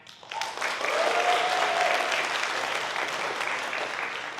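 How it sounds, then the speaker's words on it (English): A hackathon audience at Brown University applauds first-time attendees: a broad wash of clapping from a sizeable crowd rises quickly and holds steady, a few cheers and whoops mixed in, fading slightly toward the end. "Can we have a massive round of applause for people who this is their first time?"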